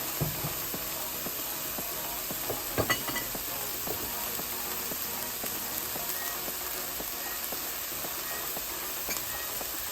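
Chopped onions sauté in a pan for curried chickpeas, giving a continuous close sizzle with crackles and occasional stirring scrapes, steady and alone.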